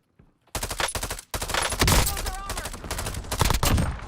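Gunfire in a video game sniper fight rings out after a brief quiet start: loud, rapid bursts of shots crack close by, with gameplay noise throughout and a few spoken words.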